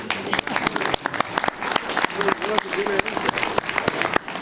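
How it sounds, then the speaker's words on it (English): A room of people at an icebreaker session breaks into steady applause, dense overlapping claps mixed with voices and cheering for the whole stretch. "How about a great round of applause for that?"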